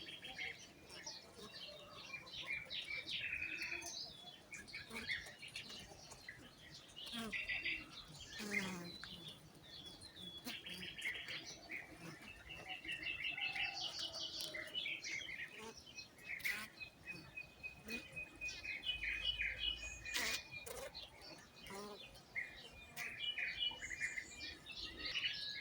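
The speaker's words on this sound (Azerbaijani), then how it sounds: "yəqin ki quşların səsini eşidirsiniz. Havada nə qədər arı quşları var." Bee-eater birds call overhead near beehives, sounding as scattered chirps and trilling whistles that come and go, faint and fairly distant, while a person talks intermittently.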